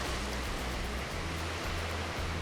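Ocean waves break on the beach at Burleigh Headlands, making a continuous, even rush of surf with no distinct single crash, moderately distant and steady throughout.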